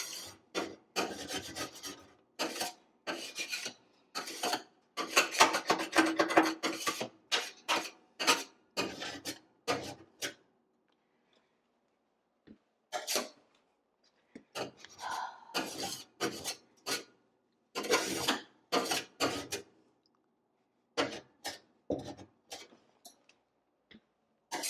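A flat metal cheese slicer cuts through cake in bursts of dry, rasping scraping strokes. Quick rhythmic scrapes cluster into groups separated by quiet pauses, close and fairly soft, with no talking.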